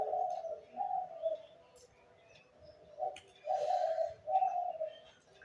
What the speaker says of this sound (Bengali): শুনতেছ না তোমরা পাখির ডাকটা?